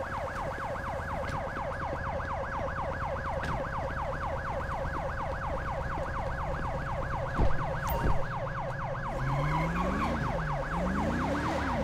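Ambulance siren in the video game Grand Theft Auto 5, a fast, steady wail cycling rapidly for most of the stretch. Near the end it switches to slower sweeping tones, with a couple of brief thumps in between.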